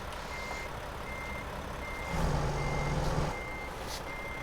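A truck in American Truck Simulator turns around while its reversing alarm beeps in a steady, evenly spaced rhythm, with a low engine rumble that swells briefly in the middle.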